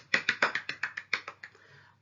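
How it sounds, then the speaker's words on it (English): A small rainbow clap, a soft hand tap rather than full applause, made as praise during a children's maths counting lesson: about ten light, evenly spaced taps in quick succession, close and fairly quiet, fading near the end, with no talking. "give yourself a huge rainbow clap."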